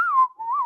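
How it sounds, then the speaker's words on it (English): A single short whistled tone, loud and close, that wavers slightly in pitch and briefly dips before steadying again. "I'm waiting for the whistle."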